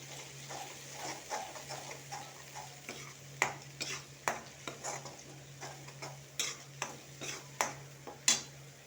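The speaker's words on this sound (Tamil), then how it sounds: "புதினாவை நல்லா எண்ணெயிலே வதக்கலாம்." Ground mint sautés in oil for traditional pudhina thokku, a soft sizzle broken by repeated scraping stirs of a utensil against the pan, close and fairly quiet, with a steady low hum underneath.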